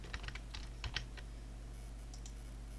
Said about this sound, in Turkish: Başlığımı yazıyorum.